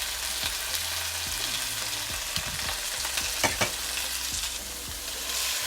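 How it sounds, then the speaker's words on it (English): Meat browns in far too much oil in a pan over medium-high heat, giving a steady, loud sizzle and crackle throughout, with a few clanks from stirring and no voices. "I'm doing this on medium-high heat with way too much oil in the pan"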